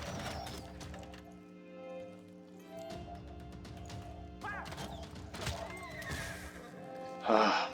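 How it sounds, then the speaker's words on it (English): Horses whinny amid a busy Civilization VI battle soundscape of clattering, crashes and thuds, ending with a sharp louder burst near the end. "My horses are getting massacred left and right."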